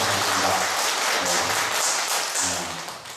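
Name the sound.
audience clapping at a lecture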